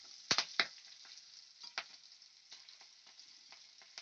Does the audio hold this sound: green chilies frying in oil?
yes